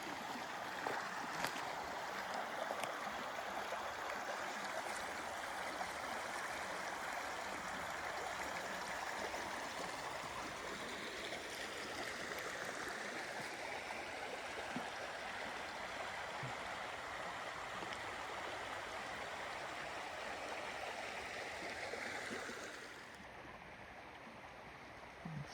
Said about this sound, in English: So here's the creek.